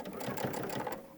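A sewing machine stitches continuously over a button at a steady, even whir for about a second, close and moderately quiet, with no voices.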